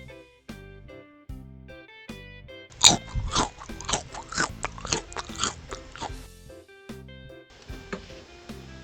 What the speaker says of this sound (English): Lay snack with grilled shrimp and seafood sauce.